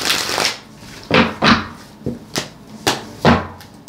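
Tarot cards being shuffled by hand, a series of sharp riffling bursts and soft slaps spaced irregularly over a few seconds, close and fairly loud, with no talking.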